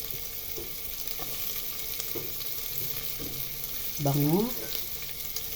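Onions frying for pork liempo sinigang give a steady close sizzle with soft stirring knocks, a brief voice briefly rising over it near the end.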